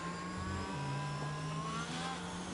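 Formula One race car engines from a racing video game set at Japan drone steadily and loudly, with sustained high-pitched whine and overlapping tones from several cars running together.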